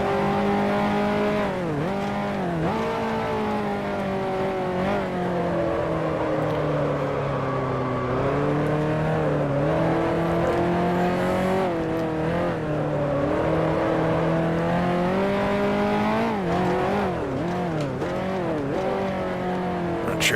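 A 1955 Formula One car in Grand Prix Legends at Monaco, its engine howling steadily and repeatedly dipping and climbing in pitch as it shifts rapidly through the gears, loud and continuous with no talk.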